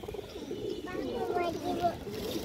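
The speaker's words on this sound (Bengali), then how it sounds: "পুরান ব্লাড লাইনের মুসলদম, লাল মুসলদম কবুতর" Red Musuldom pigeons of an old bloodline coo in low, rolling phrases, steady and fairly close, with a few brief chirps and faint background chatter mixed in.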